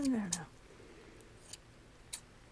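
A brief voice opens, then a few faint, sparse scissor snips follow at close range with quiet pauses between them.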